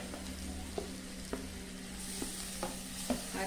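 Ground beef sautéing in a pan over high heat, an even sizzle under a steady hum, punctuated every half second or so by light scraping and tapping of a spoon; close, no speech.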